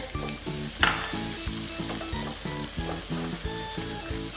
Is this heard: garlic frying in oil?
yes